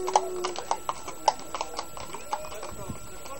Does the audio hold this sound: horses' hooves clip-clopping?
yes